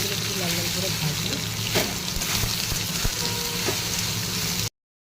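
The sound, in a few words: soybean chunks frying in hot oil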